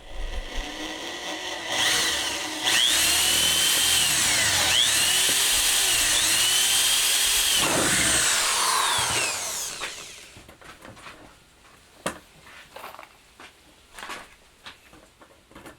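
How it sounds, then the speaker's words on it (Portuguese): A power drill with a bit whines loudly for several seconds as it bores a rivet hole while building an alfaia drum, then stops, followed by scattered light clicks and handling sounds. "A furadeira aqui com a broca 964, você vem aqui, faz o primeiro furo"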